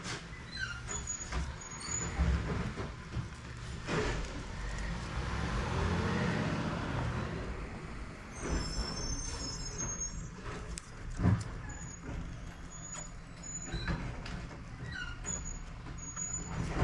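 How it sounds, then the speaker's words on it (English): A truck passes outside a workshop during boat engine servicing, a distant low rumble with air-brake hisses and clunks, faint and continuous. "Sorry if you can hear the truck outside."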